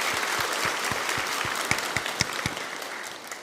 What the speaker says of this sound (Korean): 우리 하나님께 우리 감사와 영광의 박수 올려드립니다